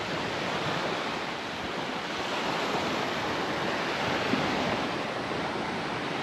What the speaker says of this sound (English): Pretty nice ferry ride here.